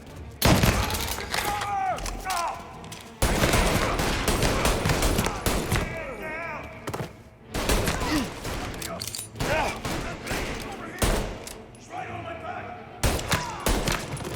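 Rapid bursts of gunfire crack through a Mafia Definitive Edition cutscene, loud and dense volleys of shots broken by brief pauses, with shouting voices mixed among the firing.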